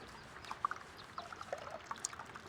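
Chopped banana flower is squeezed tightly by hand to wring out its water, producing faint scattered drips and soft trickling spatters over a quiet background with no talking.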